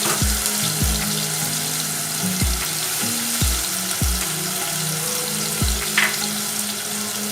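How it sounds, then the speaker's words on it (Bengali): Onion paste fries in oil with cinnamon and cardamom as the base for a beef kofta curry, a steady close sizzle with a soft, regular tapping and scraping of stirring repeating throughout. "ভালো করে কষায় নেব"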